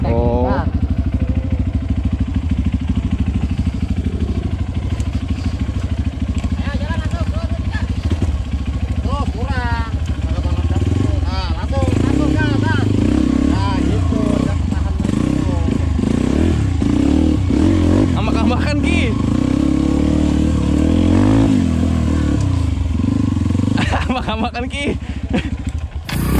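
A motorcycle engine revs and labors on a slippery road, running loud and close throughout with clattering and scraping as the bike is pushed back, while people talk over it.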